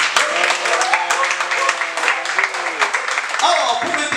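An audience applauds at a white cane ceremony, with scattered clapping throughout while a voice talks over it.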